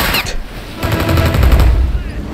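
In the Mafia video game, gunfire is aimed at a tank as loud rapid bursts of automatic shots crackle close by. A voice may be heard faintly underneath.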